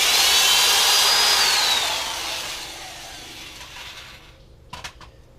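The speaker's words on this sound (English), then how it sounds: "Pre-drill the hose about a 1/4 inch from the end." A power drill pre-drills a hose about a quarter inch from its end into wood, whining loudly as it spins up, then winding down and stopping, followed by a few faint clicks.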